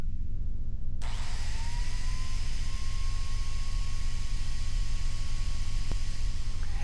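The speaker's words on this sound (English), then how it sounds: "Clamp the workpiece to the bench, cut the biscuits into the end of the board." A DeWalt DW682K biscuit joiner cutting biscuit slots into the end of a clamped board, starting suddenly and holding a loud, steady motor whine with broad noise, then stopping with a click near the end.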